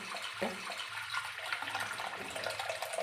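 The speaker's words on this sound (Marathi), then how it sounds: "तर आता आपण त्याच्यामध्ये पाणी ओतून घेऊया" Water pours steadily into a pot of split chickpeas (chana dal), a continuous gurgling splash close by with no talking.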